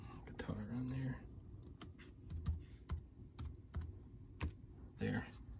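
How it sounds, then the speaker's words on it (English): A computer keyboard is typed on in short clustered bursts of clicks while entering a track name in GarageBand, close and fairly quiet, with a voice talking briefly at the start. "I'll just type guitar on there."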